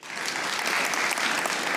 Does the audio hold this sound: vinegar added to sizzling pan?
no